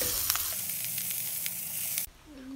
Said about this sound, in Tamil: 1 நிமிஷத்துக்கு கம்மியாக நல்லா வதக்கி விட்டுக்குங்க